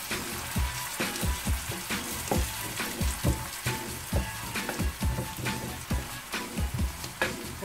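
Carrots stir-frying in a pan after a splash of water, giving a steady loud sizzle with rhythmic scraping and stirring strokes throughout, alone without talk.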